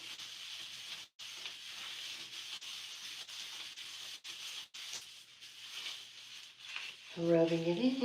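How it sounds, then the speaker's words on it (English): Hair gel being rubbed and squeezed into the scalp by hand, giving a steady soft, broadband friction rustle close up, with brief pauses and a different sound at the very end. "Rubbing it in, squeezing it in for distribution, and rubbing"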